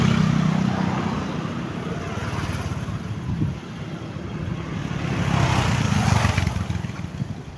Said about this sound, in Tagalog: Yun mga motor cab,